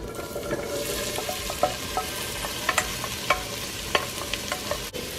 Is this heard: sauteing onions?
yes